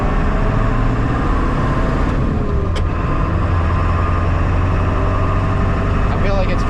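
A 1995 Ford F350 crew cab with the 7.3L diesel runs steadily, its transfer case spinning the drive shaft with a slight grind, a loud continuous low engine drone with a brief click near the middle.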